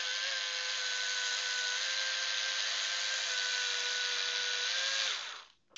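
A power driver sinks screws into 3D-printed parts while a humanoid robot leg is assembled. One continuous, even whir runs for about five seconds, close and steady, then cuts off abruptly.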